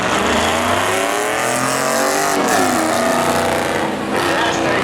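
A truck engine revs hard during night spectator drag racing at Beech Ridge, a loud, sustained roar with rising and falling pitch, close by, with a crowd voice talking over it.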